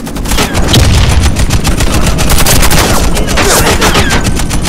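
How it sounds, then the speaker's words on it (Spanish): Loud, dense gunfire and a grenade blast rip through a cooperative match of the shooter game Warface, with rapid automatic bursts running almost continuously near the listener. "¡Ahí va una granada!"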